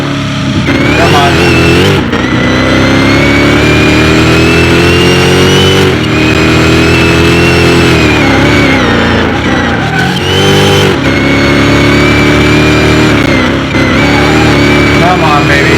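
High-horsepower SUV engine at full throttle in a mile drag race, loud and close, climbing through several sustained revving pulls separated by short gear-change dips, with excited voices talking over it.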